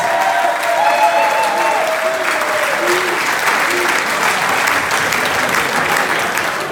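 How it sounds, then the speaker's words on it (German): Audience at the VfB Ball 2020 applauds loudly and steadily, a dense continuous clapping from a large crowd with no talk over it. "Bitte einen großen Applaus für Peter Jakowitz."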